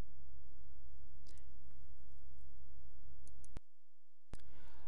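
Mouse clicks on a search button while browsing a library database, a few faint sharp clicks over low steady room hum, with a brief dead-silent gap near the end.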